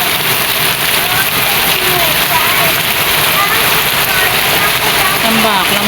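Heavy rain pours steadily, a dense, constant hiss of drops drumming on surfaces with no break.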